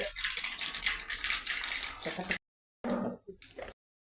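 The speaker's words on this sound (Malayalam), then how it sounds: "അപ്പോൾ നമ്മൾ കടുക് പൊട്ടി തുടങ്ങിയിട്ടുണ്ട്" A teaspoon of mustard seeds begins spluttering in hot oil in a heated pan for beetroot pickle: a dense, close hiss with crackling pops that breaks off briefly and then returns in short bursts.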